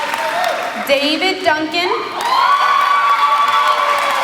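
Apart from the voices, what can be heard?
audience applauding and cheering for STEM Expo grand prize winners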